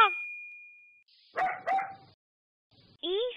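A dog gives two quick close barks after a fading chime, then a pause and a short high yelp at the end.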